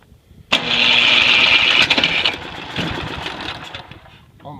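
An Ariens Platinum ST30DLE 30-inch two-stage snow blower engine is cranked in a starting attempt: a loud, sudden burst of mechanical clatter and buzzing that runs a couple of seconds, then fades and sputters without fully catching.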